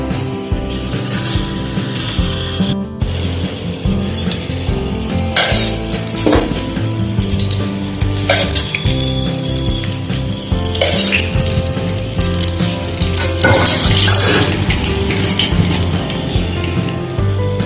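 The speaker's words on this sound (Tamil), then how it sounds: "பணியாரக்கல்ல அடுப்பில் வச்சு பணியாரம் சுட ஆரம்பிச்சிடலாங்க." Sorghum paniyaram dumplings cook in a paniyaram pan on a stove, giving a loud steady sizzle and crackle with occasional metallic clinks of a utensil against the pan.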